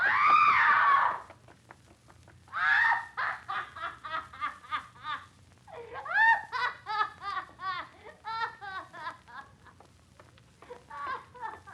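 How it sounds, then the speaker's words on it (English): A woman lets out a loud, piercing scream in an old Jack the Ripper radio crime drama. It is followed by a string of shorter, breathy vocal bursts, like sobbing or hysterical cries, at close range. "She screamed."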